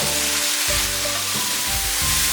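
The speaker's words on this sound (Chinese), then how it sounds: "重新起锅烧油，下葱头、辣椒片，炒出香味后下牛肉、土豆" Beef and potatoes hit hot oil in a wok with shallots and chili slices, giving a steady loud sizzle broken by the scrape and clatter of stirring, with no voices.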